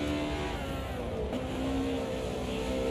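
A race car in a sim racing video game roars past with a steady engine drone and a brief pitch shift mid-pass, loud and continuous with no talk over it.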